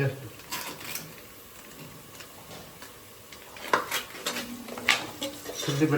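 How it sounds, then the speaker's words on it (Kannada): Ginger garlic paste is stirred in a pan for chilli chicken, with irregular spoon clinks and scrapes against the metal over a faint sizzle. "ಶುಂಠಿ ಬೆಳ್ಳುಳ್ಳಿ ಪೇಸ್ಟ್ ಹಾಕಿದ್ಮೇಲೆ ಅದು ತಿರುಗಿಸ್ತಾ ಇರಬೇಕು"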